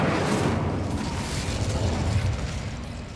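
Incendio fire spell cast in Hogwarts Legacy, a loud whooshing roar of flame that starts strong and holds as a steady, rumbling burn, easing slightly over a few seconds.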